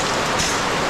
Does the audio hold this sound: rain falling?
yes